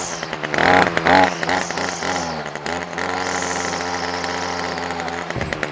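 A Titan petrol string trimmer, unused for about a year and needing tuning, runs with a loud, uneven engine drone that surges twice early on, then settles into a steady buzzing idle before cutting off near the end.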